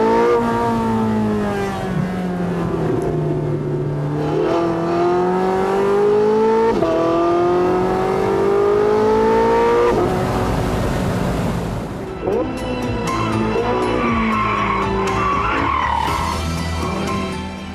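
A high-performance sports car accelerates hard and revs, its engine note climbing in long rising sweeps with brief drops between gears, loud and close, then a final surge of revving.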